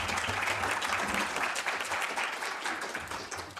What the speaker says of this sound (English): A round of applause for our first panel.